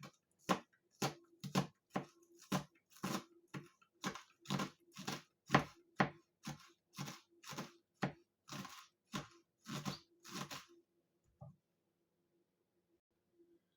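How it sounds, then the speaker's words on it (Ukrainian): Regular knife chops through parsley and green onion on a cutting board, about twenty even strokes in a steady rhythm, close and distinct, then quiet. "починаю нарізати нашу зелень. У мене петрушка і зелена цибулька"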